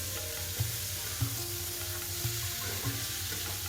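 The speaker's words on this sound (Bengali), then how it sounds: "এদিকে এই উস্তা ভাজিটাও হইতেছে" White bitter gourd (ustha) slices frying in a pan on the stove, a steady low sizzle with soft clinks of stirring throughout, close and moderately quiet.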